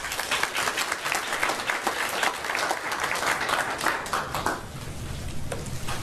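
An audience gives a lecture speaker, Professor Yang, a round of steady applause, dense clapping that holds strong and then thins near the end.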